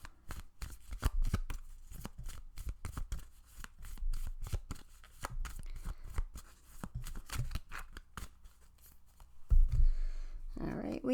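Tarot cards being shuffled by hand in a repeated papery riffle and slap that runs steadily and close for the whole stretch, with faint talking underneath.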